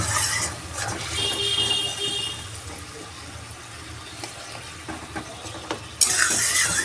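Spice masala sizzling and bubbling in a pan after a little water is added while cooking a meat and spinach curry, a steady hiss with stirring, then a sudden louder burst of sizzle near the end.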